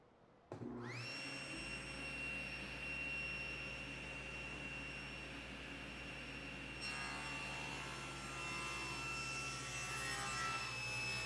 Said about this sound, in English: I'm ripping the legs at 2 3/8.